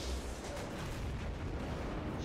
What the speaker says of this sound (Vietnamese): nó bắn một quả tên lửa xuống trái đất